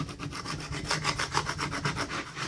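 Rhythmic back-and-forth rubbing of Cricut transfer tape onto a Dollar Tree craft piece, close and steady strokes with no voices.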